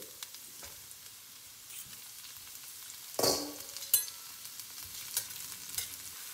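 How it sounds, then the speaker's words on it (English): Onions and vegetable stems sautéing in a pan, a soft steady sizzle with occasional stirring scrapes and a louder clatter midway, close and quiet overall. "My onions are looking good. They've been sautéing here for 3 or so minutes."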